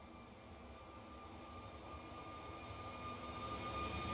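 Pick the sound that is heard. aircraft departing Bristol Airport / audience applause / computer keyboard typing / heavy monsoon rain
aircraft departing Bristol Airport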